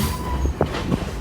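A train car at the East Troy Railway Museum rumbles along the rails with low, steady noise, faint squeals and a few clattering knocks as it rocks and sways.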